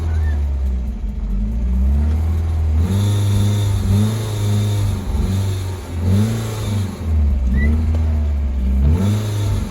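BMW E30 318i engine revved repeatedly with the throttle, close and loud, each blip rising and falling in a series of rhythmic surges over about ten seconds.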